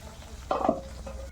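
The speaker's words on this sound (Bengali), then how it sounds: "মাছ ভাজার তেলে আমি বেগুনগুলো ভেজে নেবো" A short scrape and clatter of a spatula in a pan over a low, steady sizzle of eggplant frying in oil left from frying fish.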